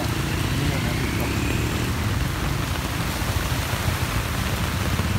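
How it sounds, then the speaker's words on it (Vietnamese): Steady rain falls over a flooded roundabout during a light hailstorm, a continuous close hiss with dense low patter on water and pavement, unbroken throughout. "Đây hôm nay có vẻ mưa cũng không to lắm."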